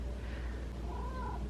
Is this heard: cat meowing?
yes